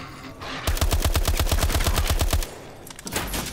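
Rapid bursts of automatic gunfire in Call of Duty: Advanced Warfare zombies mode, a steady loud rattle of shots lasting about two seconds, then quieter ambient noise.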